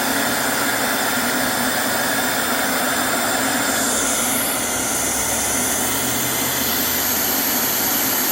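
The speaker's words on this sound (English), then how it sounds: "Here's the trick to using a vacuum." A loud, steady vacuum cleaner motor whines continuously at close range, its pitch shifting slightly midway, with no voices.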